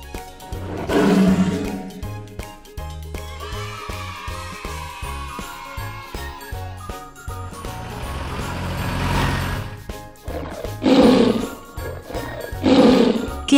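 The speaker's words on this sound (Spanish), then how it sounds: "León." A lion's roar comes loud and close in a short burst near the start, and later roaring returns in two more strong bursts over a busy, layered background of other sounds.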